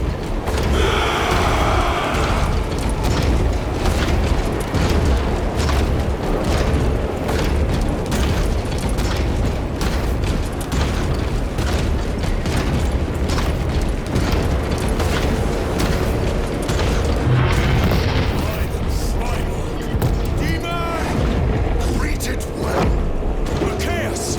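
Gunfire and explosions of a large battle in Warhammer 40000: Space Marine 2, a loud, dense barrage of booms, bursts and mechanical clatter running throughout, with voices and shouted orders mixed in beneath the din.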